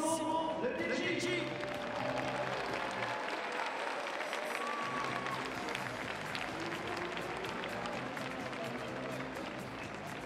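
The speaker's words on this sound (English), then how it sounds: "Je vous demande d'applaudir très très fort Simon, le DJ." An audience at a sound design competition final in Orléans applauds the DJ before his last mix, a steady wash of clapping and crowd noise holding for the full stretch alongside background music and voices.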